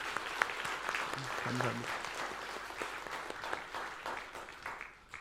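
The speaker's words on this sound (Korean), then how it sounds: "여러분 박수 부탁드립니다." Church congregation applauding at a Sunday service in a steady wash of clapping, with a voice speaking briefly over it before the applause tapers off near the end.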